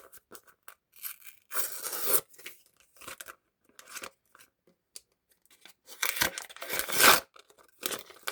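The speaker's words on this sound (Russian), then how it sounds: "впервые из этой коллекции порвала пакетик" Paper surprise packet being torn open, with crisp ripping and crinkling bursts in two main clusters separated by quieter handling rustles, close and fairly loud, with no talking.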